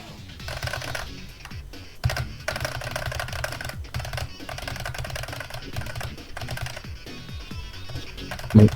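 Computer keyboard hammered during a Geometry Dash run: rapid irregular clacking of keys, bursts of taps with short pauses, close and fairly loud over faint game music.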